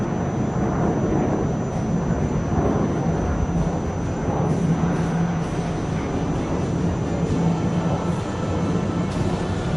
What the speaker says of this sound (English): the aircraft gone up into the vertical and then splitting apart